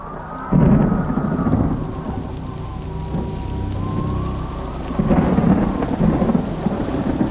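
Rain pours and thunder rumbles heavily on a stormy night in a Bengali cartoon ghost story, with deep rolling swells over a constant close downpour.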